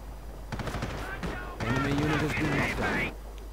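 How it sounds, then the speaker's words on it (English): Bursts of MG42 machine-gun fire in a World War II strategy video game battle, rapid crackling volleys layered over harmonic tones, continuous game din and clustered automatic shots throughout. "MG42 opening up, forcing the Britons away"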